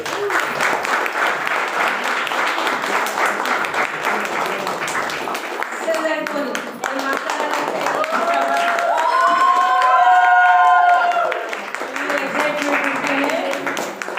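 A crowd of business-meeting attendees claps loudly and steadily throughout, the applause dense and close, with whistles and tonal cheering rising over it midway before the clapping carries on.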